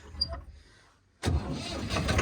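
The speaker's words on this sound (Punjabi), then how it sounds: "ਉਹ ਸਟਾਰਟ ਹੋ ਗਿਆ ਇੰਜਣ ਇੰਜਨ ਸਟਾਰਟ ਹੋ ਗਿਆ" Near-silence, then a boat engine at Bhakra Nangal Dam abruptly roars to life and keeps running loudly and steadily.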